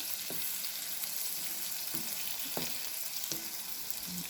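Mock scallops sizzle in a frying pan after being turned to brown, a dense steady hiss that fills the whole clip, close up, with a few soft low knocks and no talking.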